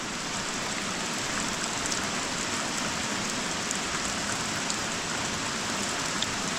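Steady rain falls in Estonia, a constant hiss of drops on surfaces with occasional louder individual drips, close and unbroken, with no voices.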